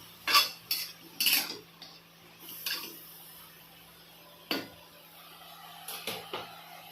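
Spatula clinking and scraping in a metal kadai while Chinese garlic greens are stir-fried, a few sharp metallic knocks and stirring scrapes spread across a quiet kitchen background, no talking.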